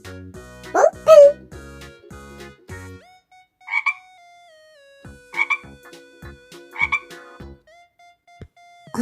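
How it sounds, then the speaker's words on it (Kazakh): A frog croaks in short, repeated bursts, three or four distinct croaks spaced a second or so apart, heard clearly against steady tonal background music in a children's animal-sounds lesson. "Бұл құрбақа."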